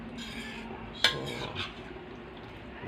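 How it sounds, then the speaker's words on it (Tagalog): A utensil stirs beef kulma stew in a metal pot, giving a soft scraping stir with one sharp clink of metal on metal, followed by a quieter knock against the pot. "alu-aluhin lang muna natin para hindi siya dumikit"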